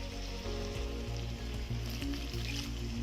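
Wet sizzling from mustard spice paste frying in a pan for rui fish, with chilli powder stirred in, steady and close, no talk over it.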